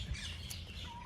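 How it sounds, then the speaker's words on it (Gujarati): Brief bird chirps and calls over a soft, steady outdoor background in a Botad village, faint and somewhat distant. "પક્ષીઓ બોલતા હોય ને સાંભળવાની મજા આવે"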